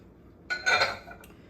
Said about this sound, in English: So I'll give this a stir.